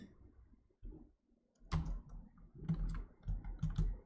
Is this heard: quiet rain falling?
no